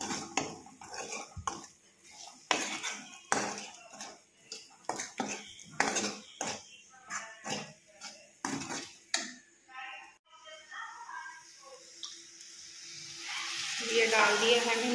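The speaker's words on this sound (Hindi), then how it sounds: "अब इनको मिक्स कर देते हैं।" A utensil stirs ingredients and salt in a metal pot on a gas stove, making repeated irregular scrapes and clinks. A rising hiss and sizzle build toward the end.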